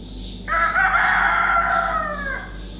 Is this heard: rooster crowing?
yes